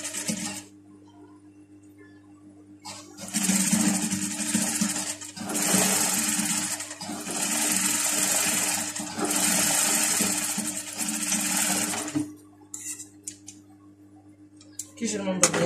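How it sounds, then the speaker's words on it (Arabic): A sewing machine stitches a pajama in a steady loud mechanical whir that runs for several seconds at a time, stopping and starting in a few bursts between quieter gaps. "هاكم باش نخيط عليها."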